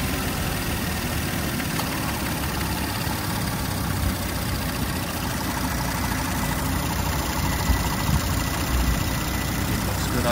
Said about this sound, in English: hopefully you can hear me over the engine